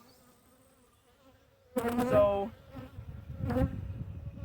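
Honey bees hum softly on hive frames during an inspection. A voice breaks in over the faint drone, followed by rustling handling noises.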